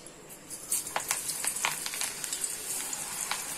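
Crumbled pakoda batter drops into hot oil and fries, a soft, crackling sizzle with scattered sharp pops and a steady bubbling hiss, close and fairly quiet, with no talk.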